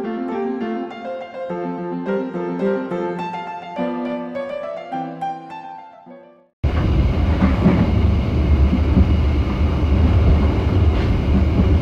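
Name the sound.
riding inside the Logawa business-class train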